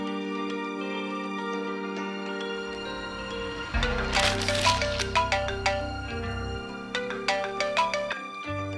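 A phone ringtone plays a looping electronic melody, loud and near, with sharp plucked-like notes repeating in the second half.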